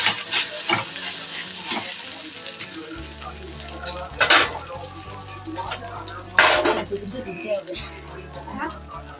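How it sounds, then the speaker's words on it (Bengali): Kohlrabi pieces fry in a pan with a bright sizzle while a spatula stirs and scrapes in bursts, and someone talks over the cooking at close range. "যতক্ষণ পারা যাবে ততক্ষণ এরকম লাল লাল করে ভাজতে হবে"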